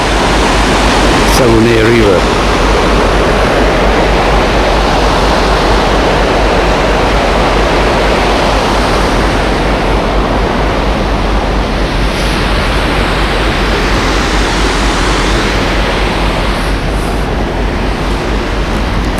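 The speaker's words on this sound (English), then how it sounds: "The river, Saguenay River." Steady, loud rush of water and waves on the Saguenay River in Canada, a continuous broadband wash without pause, with a brief tonal blip near the start.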